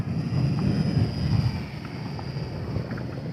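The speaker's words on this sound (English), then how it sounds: "It's not super noisy, but the gears, you can hear it" Geared motor of an XK WLToys F8F micro RC plane whirring in flight, a thin steady high whine over outdoor wind rumble, distant and faint.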